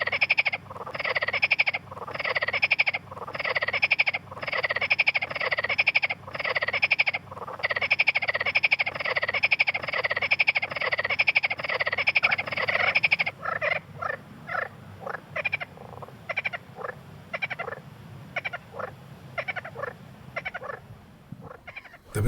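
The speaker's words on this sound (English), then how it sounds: "3 marsh frogs shared the water." Marsh frogs croak from a pond, a dense run of loud rhythmic calls repeating steadily for over ten seconds before breaking into sparser, scattered croaks with quieter gaps.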